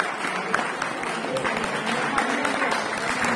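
Audience at a poetry recital in a municipal library claps steadily throughout, a dense, even patter of applause with some murmuring voices mixed in.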